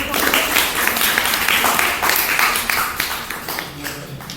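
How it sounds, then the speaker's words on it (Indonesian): Indoor applause for a group of participants at a teachers' mentoring session, a burst of loose hand clapping from a small gathering that stays strong and then slowly thins out, with some voices mixed in. "Oke, tepuk tangan dulu buat kelompok."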